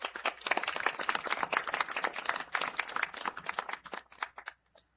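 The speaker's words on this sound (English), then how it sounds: "Can we give our speaker a round of applause again?" An audience applauding a speaker at an interfaith dialogue event: many hands clapping in a lively, close patter that thins out and fades to a few last claps near the end.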